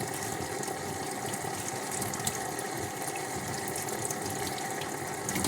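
A tap runs steadily for washing, giving a constant close gush and splash of water with no break and no voices.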